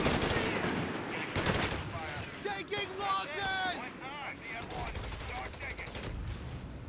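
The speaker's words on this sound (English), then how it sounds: "Drops the artillery on the Nebelwerfer now." Artillery shelling and bursts of gunfire in the real-time strategy game Company of Heroes 3, dense volleys of shots and blasts packed together under a continuous voice talking over the action.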